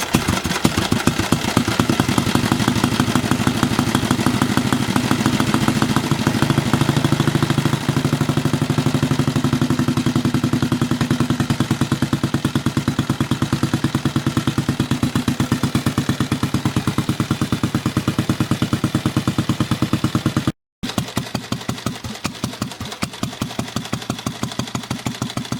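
Rudge Multi veteran motorcycle engine runs steadily, a rapid, even, loud mechanical putter close by that continues for a long stretch and cuts out briefly near the end before resuming.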